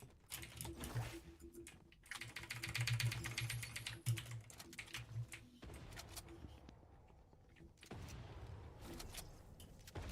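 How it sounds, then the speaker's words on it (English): Bursts of fast, clattering typing on a loud computer keyboard, close and sharp, broken by short pauses, with a voice talking over parts of it. "My keyboard is loud as shit."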